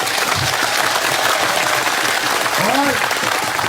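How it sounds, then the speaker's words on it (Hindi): A crowd at a political strike rally claps in steady, sustained applause to welcome a speaker, dense and loud, with voices calling out over it. "जरा जोरदार तालियों के साथ स्वागत करो"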